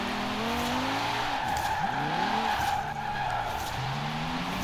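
A 2018 Alfa Romeo Stelvio Quadrifoglio on an AWD drift tune in Forza Horizon 4 squeals its tires continuously while sliding sideways, the loud screech rising and bending over a constant engine roar.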